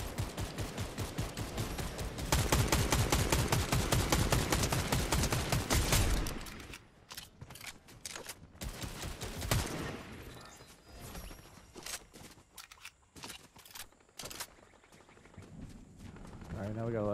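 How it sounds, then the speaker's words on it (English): Rapid volleys of gunfire in Fortnite crackle densely for the first several seconds, then thin into scattered, sharper shots and distant bursts while players talk over the action. "Now we got a lot of shooting to the south."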